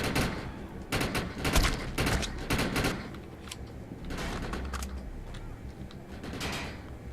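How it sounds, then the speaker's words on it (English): Burst gunfire in the shooter video game Defiance comes in loud, clustered volleys of rapid shots with short gaps between them. "Nah, you burst fire. Why wouldn't you burst fire?"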